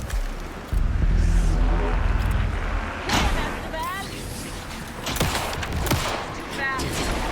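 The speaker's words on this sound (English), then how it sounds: "pin him down with gunfire for me to get the light on" Rapid bursts of gunfire in the video game Alan Wake 2 crackle and pop in quick succession, loud at first, while voices talk over the shooting.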